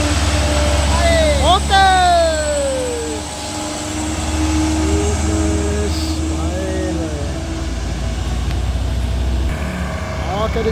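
A car engine roars as it accelerates up a steep incline, a loud, steady low drone with rising, straining tones. Someone talks over it.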